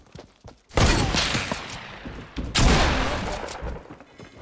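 Two loud hunting-rifle shots ring out in a shooter video game, one near 0.7 seconds and another around 2.6 seconds, each a sharp blast trailing into a long rumbling decay.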